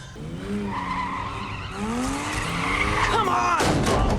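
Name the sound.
car skidding in a movie scene on a plane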